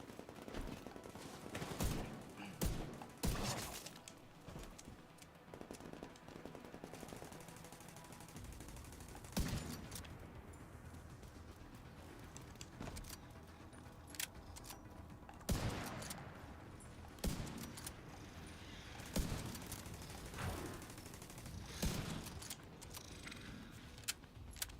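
Faint rifle shots from The Division 2: Warlords of New York crack in scattered single shots and short bursts with gaps between them, over a low, steady game background.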